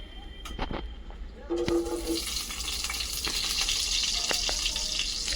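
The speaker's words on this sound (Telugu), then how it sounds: "ఇప్పుడైతే నూనె పోస్తుండు ఫ్రెండ్స్ చూడండి ఫ్రెండ్స్ నూనె అయితే పోసేస్తున్నాడు" Cooking oil poured into a pan for a village-style chicken fry, a steady bright hiss and sizzle that swells after a brief quieter start and runs continuously to the end.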